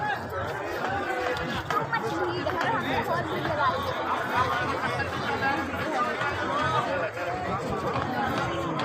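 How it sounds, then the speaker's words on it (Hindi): Dense crowd chatter at the Gorakh Tilla pilgrimage site in Rajasthan, many overlapping voices and shuffling movement forming a steady, busy babble up close. "तो आप देख सकते हो कितनी भीड़ है यहाँ पे"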